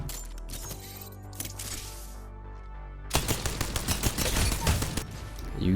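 The Rampage light machine gun in Apex Legends fires a sustained burst of rapid, punchy shots after a quieter stretch of game sounds, loud and close with a steady rattling rhythm.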